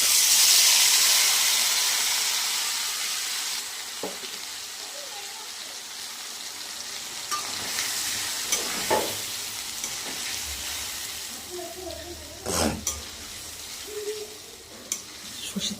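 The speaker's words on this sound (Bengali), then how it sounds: "দেখো এবার আমি তেলটা গরম হয়েছে একটু কড়াইতে ঢেলে দেবো।" Hot mustard oil hisses and sizzles in a wok, a broad steady spitting that starts loud and gradually settles, with occasional clatters and stirring knocks over it.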